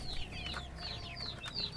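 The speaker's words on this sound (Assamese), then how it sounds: "দানা দিয়াৰ বাবে সকলোবিলাক মুৰ্গী আহি এনেধৰণে" Chickens about 45 days old peck at grain feed on a small local poultry farm, giving soft, steady clucks and short chirps close by under a constant low hum, with no voices.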